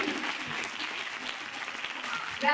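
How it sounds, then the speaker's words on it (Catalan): Audience applause for a school's head teacher at the opening of a vocational training week event, a steady dense clatter of many hands filling the room, swelling slightly at the end. "voldria que donarem un aplaudiment molt fort, perquè ella se posa més nerviosa, a la nostra directora del centre"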